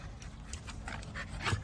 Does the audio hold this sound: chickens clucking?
no